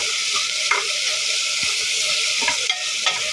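Chopped tomato frying in a pan for a potato sagu, giving a constant close hiss of sizzling oil with a few soft utensil taps, steady throughout and without speech.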